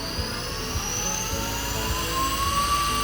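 An ASIWO U1 battery-powered electric outboard motor starts up in gear 1, giving a steady, fairly loud motor whine with a rising tone that runs throughout alone, without any talk.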